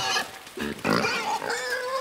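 Pig oinking in a video game, a few short grunting bursts with brief gaps over a steady background of game sound, fairly close and clear.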